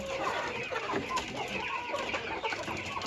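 A flock of broiler and laying chickens clucks and chatters continuously nearby in a wooden coop, overlapping calls filling the enclosed space with no talking.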